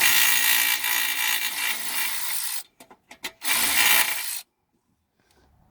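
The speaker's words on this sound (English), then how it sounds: "Looks like there's 4 10mm bolts in there. We got to unbolt these." A ratchet wrench spins out 10mm bolts on a Bose amplifier module in a 2011 Mazda 3, a loud, dense close-up rattling that runs for a few seconds, pauses for a few clicks, resumes briefly, then stops.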